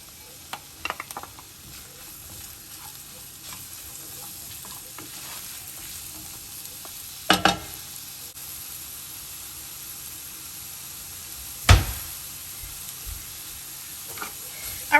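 Mushrooms frying in a pan make a low, steady sizzle, broken by a few sharper clatters and scrapes from stirring, with no voices.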